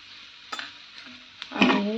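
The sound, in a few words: mixing potato filling with spices in pan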